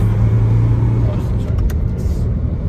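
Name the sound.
car driving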